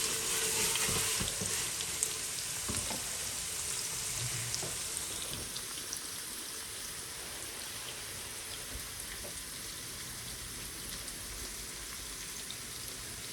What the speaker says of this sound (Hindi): उसको अच्छी तरह भून लेना है।